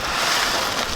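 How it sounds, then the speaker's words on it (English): Strong wind buffeting the microphone up high on Maui, a constant loud rushing roar with no pauses. "A little windy up here"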